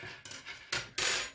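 Metal scissors are picked up and handled during knitting, giving a few short metallic clinks and rustles, close by and without talk.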